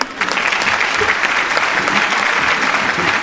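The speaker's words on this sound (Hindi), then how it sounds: "आप लोगों से गुजारिश है ज़ोरदार तालियों में इस्तकबाल करें।" Audience at a poetry gathering applauding to welcome a minister: a full, dense burst of clapping that rises quickly and holds loud for about three seconds.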